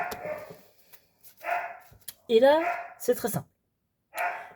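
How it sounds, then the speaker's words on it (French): A pet dog barks and yips several times in short sharp bursts, close and fairly loud, interleaved with someone speaking French indoors. "si vous entendez des aboiements, c'est normal, c'est mon chien, désolé."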